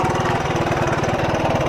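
A 1970s Honda CB125 motorcycle idling close by, with a steady, even, rapid putter throughout and no talk.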